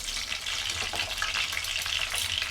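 Chop suey frying in a pan with a little oil, a dense, even sizzle and crackle throughout, close and fairly loud with no voices.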